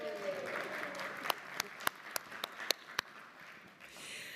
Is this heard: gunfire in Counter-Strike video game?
no